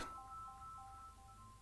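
A phone ringtone sounds during a live online physics class, a steady electronic melody of sustained tones that plays on alone and fairly loud throughout.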